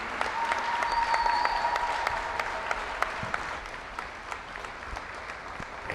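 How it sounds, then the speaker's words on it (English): Gym crowd at a girls' high school basketball Senior Day giving a sustained round of applause for the senior players, steady and loud clapping with a few sharper claps and a brief whistle-like tone in the arena. "One last round of applause for our Centaur seniors."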